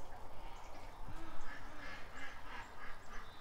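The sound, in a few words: ducks quacking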